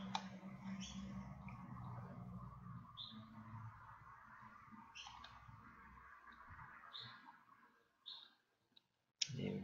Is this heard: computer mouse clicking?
yes